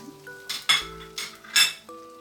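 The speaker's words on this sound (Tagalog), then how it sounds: "Pwede na natin idagdag yung ating shrimp." Shrimp going into a frying pan for creamy alfredo pasta, heard as a few close clinks and scrapes of utensils against the pan in bursts, with light ringing metal tones between them.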